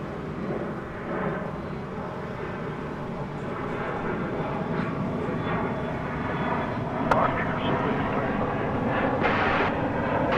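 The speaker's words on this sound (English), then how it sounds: "be an E-Jet, number 175, American Eagle Flight" An American Eagle Embraer E175 regional jet at DFW Airport at night. A steady, broad roar of jet engine noise builds slightly, heard from a moderate distance with faint background chatter and a brief click.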